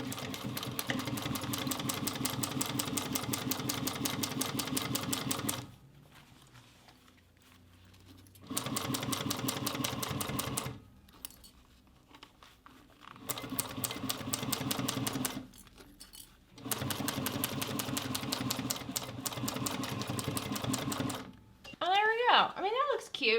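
A sewing machine stitches the sides of a bucket bag in several bursts of rapid mechanical whirring, each lasting a few seconds with quiet pauses between them. A voice speaks briefly near the end.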